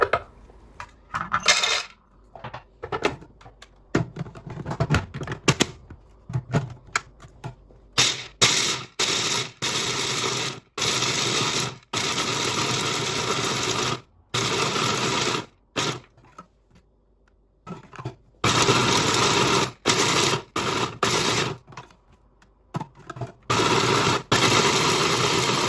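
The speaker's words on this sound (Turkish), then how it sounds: "1 su bardağı çiğ bademi mutfak robotunda çekelim." Raw almonds, one cup, ground in a kitchen food processor, heard as loud, choppy bursts of rattling and whirring with brief pauses between pulses.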